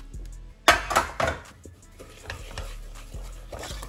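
Sugar stirred into melted chocolate and butter for brownie batter: a sharp knock of a utensil on the bowl, then soft, thick scraping strokes repeating at a steady pace, close and quiet.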